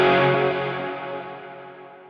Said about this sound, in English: That's a long reverb tail.